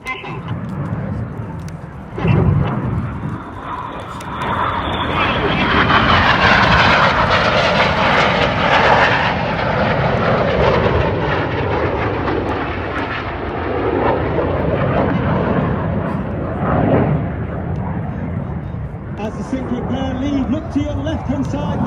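Red Arrows jets in a display flight at an airshow roar overhead, a loud, swelling and fading engine rush as aircraft dive and pass, with a commentator speaking throughout.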